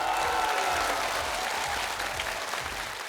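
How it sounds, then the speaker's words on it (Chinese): A studio audience applauds the contestants at a Chinese stand-up comedy competition taping, with dense, steady clapping from a full room that continues evenly throughout and fades slightly at the end. "那我们给我们的选手也掌声好不好？"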